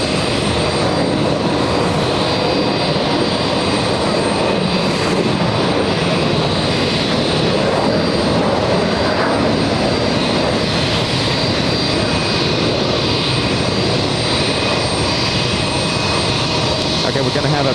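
Jet airplane at JFK airport near Terminal 5, a loud, continuous engine roar with a steady high whine that fills the whole stretch, with voices talking faintly underneath.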